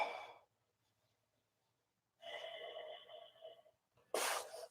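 A long audible exhale during a yoga breathing exercise: one broad, airy breath after a stretch of quiet, then a sharper burst of breath at the end, close and fairly soft.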